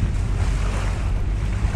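Strong easterly wind on a beach roars steadily against the microphone, a constant low buffeting rush with no voices.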